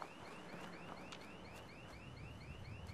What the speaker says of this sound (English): How can you hear anything over that alarm?